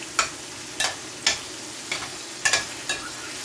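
Tomatoes fry in a pan for a Jamaican saltfish cook-up, with a steady low sizzle broken by about seven sharp, evenly spaced scrapes and clacks of a spoon against the pan.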